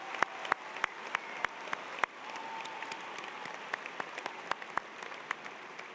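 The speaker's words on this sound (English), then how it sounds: "Now let's collectively give all of them a round of applause." A commencement audience applauds engineering graduates, a dense, steady wash of clapping from many hands with a few sharp, close claps standing out at irregular intervals.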